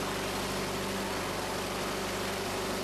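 An RV-8 aircraft engine runs as a loud, continuous droning roar heard from inside the cockpit, steady and unbroken throughout.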